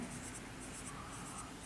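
Handwriting with a pen, likely for a lesson on computer coding and number systems, making a soft continuous scratching close by, alone with no talk.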